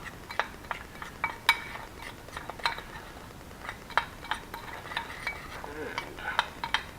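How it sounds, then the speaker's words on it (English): Spices being stirred together in a bowl with a utensil, giving a series of light, irregular clinks and scrapes, quiet and close, with no talking. "Alright, so I'm going to mix those all up."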